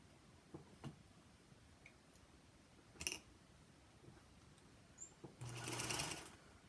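A Featherweight sewing machine stitches a quarter-inch seam on a quilt block, with a short burst of fast needle clatter and then a longer, louder run of stitching near the end, set among faint clicks in a quiet room.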